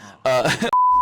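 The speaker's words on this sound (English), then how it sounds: "That's my phone." A phone chirps with a single clear electronic beep near the end, right after a person speaks close by.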